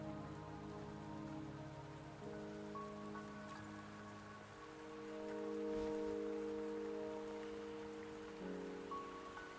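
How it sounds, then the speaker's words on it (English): Soft, steady rain hisses in the video game Wuthering Waves, a faint continuous wash beneath sustained musical tones, without talk. "the rain won't last much longer"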